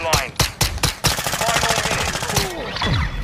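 Sharp gunshots from a Call of Duty MW2 Search and Destroy match, several single cracks followed by a rapid automatic burst, loud and close, with brief talk in the background.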